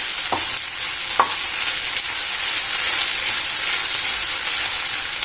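Okra for vendakka thoran frying in a pan, a steady close hiss and sizzle throughout with two brief scrapes of a spoon stirring near the start.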